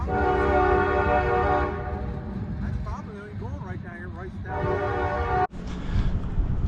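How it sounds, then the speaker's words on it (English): A freight train with only two cars rumbles past loudly with a long blaring horn, the horn briefly cutting out and then sounding again over the rolling rail noise. "Only 2 cars in that train"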